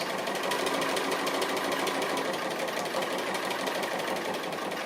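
A sewing machine stitches applique at a constant fast pace, a steady close mechanical whirring and rapid needle pulsing that runs without pause.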